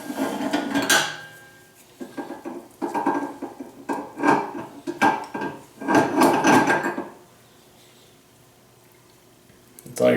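Metal clanks, knocks and rattles of parts being handled while the grinder head is swapped on a meat grinder for venison sausage, irregular bursts close up, then a quiet stretch before a last clunk.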